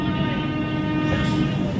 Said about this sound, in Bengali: ট্রেন হাওড়া স্টেশন ছেড়ে বেরাচ্ছে তার নির্ধারিত সময় থেকে 50 মিনিট লেটে